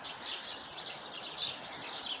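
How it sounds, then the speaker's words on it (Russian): Birds chirp and twitter in a dense, continuous high chorus outdoors in Adler, Sochi, on a sunny day, fairly faint and steady with no talk. "Так красиво поют птички."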